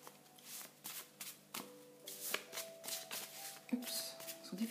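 Tarot cards being shuffled by hand in short bursts, a series of quiet riffling and flicking rustles close by with brief pauses between them.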